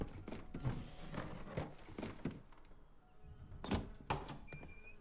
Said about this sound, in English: I'll get the door open.